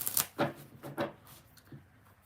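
A deck of tarot cards being shuffled, with a few soft riffling bursts close by in a quiet room and no talk over them.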